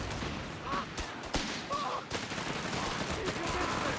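Machine gun fire from a 2v2 Company of Heroes 3 battle, steady rattling bursts sitting within a dense mix of battle noise and sharp transients throughout.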